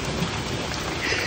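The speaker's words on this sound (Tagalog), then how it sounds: "Napakalakas ng ulan." Heavy rain pours down in a steady, dense broadband hiss across a garden, continuous and close throughout with no voices.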